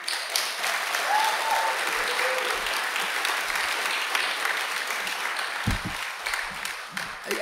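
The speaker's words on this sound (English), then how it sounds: "Can everybody just applaud the organizers?" A conference audience applauds steadily for over seven seconds, a dense, sustained wash of clapping with a few faint voices and shouts mixed in.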